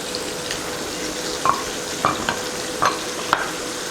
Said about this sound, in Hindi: जब तक इसका कलर चेंज नहीं होगा हम जब तक इसको इसमें ही फ्राई करेंगे।